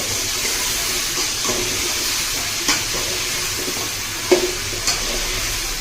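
Drumsticks fry with turmeric in a pan for sambar, producing a constant moderate sizzle with occasional stirring scrapes and a few brief knocks.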